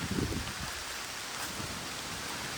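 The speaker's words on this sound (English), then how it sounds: "I gotta get out of this rain." Steady winter rain hissing on surfaces on rural land in Minnesota, a constant wash of noise with a brief low rumble at the start, no voices.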